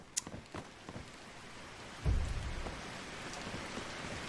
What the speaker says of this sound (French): Oh, il pleut, les gars, et c'est bon signe.